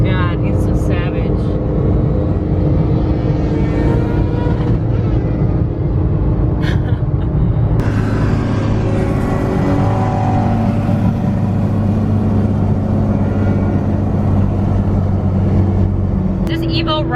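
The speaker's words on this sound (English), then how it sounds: "This Evo rides seriously so amazing." A Mitsubishi Evo 8 engine hums steadily while driving, then shifts into a deeper, stronger drone partway through as the car accelerates.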